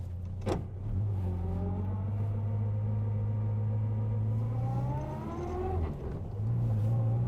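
A Morris Minor 1000 engine drones steadily while driving, low geared, revs dipping and rising briefly around gear changes, close and continuous without speech.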